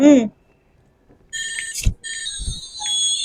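A children's toy phone plays its electronic ringtone, a bright beeping melody of bursts after a short tone and a pause, loud and close.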